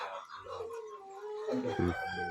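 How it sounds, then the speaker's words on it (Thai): Chickens cluck nearby and a rooster crows, a drawn-out call followed by several short clucks, moderately loud over a quiet outdoor background. "ไก่มันจะมาเนาะ"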